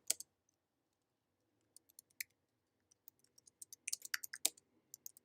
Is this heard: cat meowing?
no